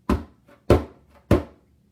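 Three evenly spaced djembe hits with a loose, under-tensioned skin, dull and thuddy with little ring, each decaying quickly, played close with no talking.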